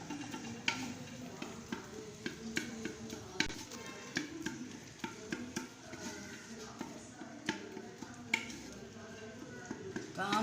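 A spoon stirs dal with softened garlic and onion in a pot, giving a series of close clinks and scrapes in an irregular rhythm, with light sizzling beneath and a voice speaking at times.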